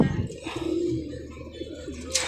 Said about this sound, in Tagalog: Ayan ang mga ibon natin, oh.